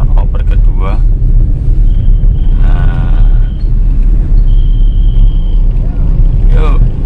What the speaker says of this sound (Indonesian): Sudah mulai maju, oper 1, lepaskan handbrake, gas.